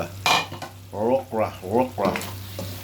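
Okra tumbling into a pan with sautéing tuna and pepper, with a sharp clatter followed by a run of spatula strokes scraping and stirring against the pan over a low sizzle, close and moderately loud, with no talking.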